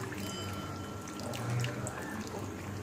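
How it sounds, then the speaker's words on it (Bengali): Tamarind water poured into a pot of vegetarian ghugni, a steady close liquid splash and trickle lasting a few seconds over a low kitchen background hum. "এই দেখো তেঁতুল গোলা জল ও এটাই তো টেস্ট বাড়াবে"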